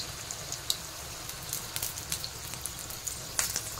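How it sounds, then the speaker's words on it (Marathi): Coriander bhaji fritters fry in hot oil with a soft, steady sizzle, scattered crisp pops and crackles breaking through now and then; quiet and close, with no voices. "चांगले फ्राय करून घ्यायचे एक साइड, नंतर आपल्याला पलटी करायची आहे।"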